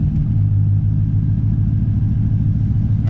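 A 6.0-liter LS-swapped C4 Corvette idles with a steady, close, low rumble as it is shifted into reverse gear, with no voices.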